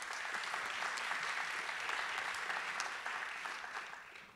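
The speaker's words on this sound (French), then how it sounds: "Je pense que vous pouvez les applaudir" Audience applause for award-winning pioneering digital projects at a conference ceremony, a steady sustained clapping from a crowd that gradually fades at the end.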